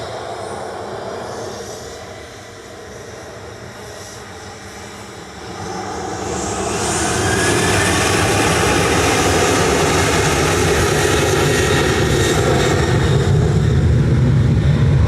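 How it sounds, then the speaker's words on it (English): A Ryanair Boeing 737-800 jet departs Manchester Airport, its engines swelling from a distant whine into a loud, sustained roar. The broadband thunder spreads up high and holds steady as the aircraft spools up and climbs. "departing to Berlin is Ryanair flight 1145 GRUKI"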